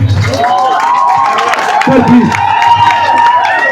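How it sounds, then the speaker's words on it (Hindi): A crowd at a protest meeting at Dharna Chowk in Hyderabad cheers and claps loudly to welcome a speaker. Shouting voices and whoops rise over a continuous wash of applause, all close and loud. "जोरदार तालियों से सोनम सर का स्वागत।"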